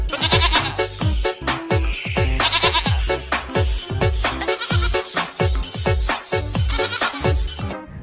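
A pair of goats, one male and one female, being loaded onto a truck bleat loudly and repeatedly in quick, overlapping calls, close by and continuous without talk.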